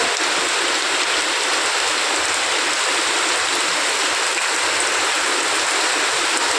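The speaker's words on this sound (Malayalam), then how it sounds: "അങ്ങനെ നല്ല മഴ പെയ്തു." Heavy rain pouring steadily, a dense, loud, unbroken hiss of water falling with no voices or pauses.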